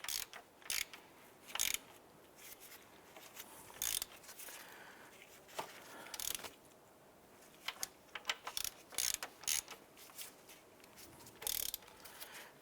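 A ratchet tightens knock sensor bolts on a 2011-2019 Ford Fiesta engine, sounding in short bursts of rapid clicking separated by pauses, close and fairly quiet, with sharper louder clacks as each stroke resets.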